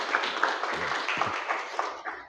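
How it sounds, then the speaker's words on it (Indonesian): Students in a vocational school classroom clap together in a steady, dense round of applause lasting a couple of seconds. "Tepuk tangan dong"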